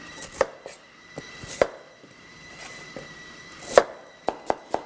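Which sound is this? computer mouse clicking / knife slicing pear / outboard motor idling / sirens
knife slicing pear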